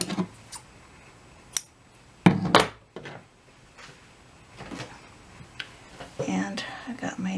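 Scissors snip through craft material for an altered CD case project, a few quick close cuts with short crisp bursts, quiet handling noises between.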